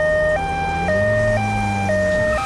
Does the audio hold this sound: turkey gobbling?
no